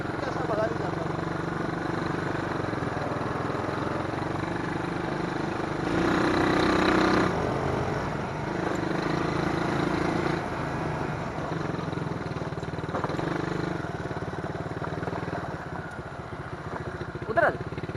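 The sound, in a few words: motorcycle riding on a road at night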